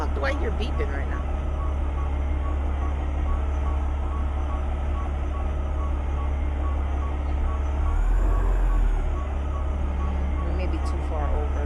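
Reversing beeps from a truck's backup alarm in American Truck Simulator, a steady, evenly spaced series of electronic beeps over a low diesel engine rumble, with a brief hiss partway through.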